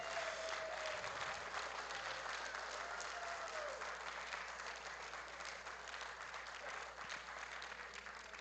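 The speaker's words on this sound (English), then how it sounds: "Can we get a big round of applause for all these great athletes?" A powerlifting championship crowd gives sustained, steady applause for Special Olympics athletes, a dense wash of clapping that stays even across the whole stretch with no talk over it.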